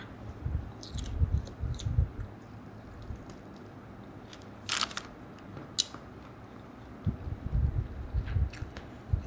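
Close, wet chewing of grilled pork sausage, with soft squishy bites coming in uneven bursts and quiet pauses between mouthfuls, no talking.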